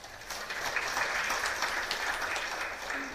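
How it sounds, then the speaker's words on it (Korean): Audience applause at a district policy forum on child safety, steady and moderately distant clapping that holds for a few seconds before easing off. "박수를 청해 주십시오."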